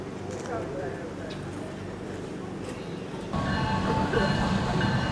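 A passenger train in Indonesia rumbles steadily with clattering wheels and carriage noise, growing louder partway through, while people talk nearby.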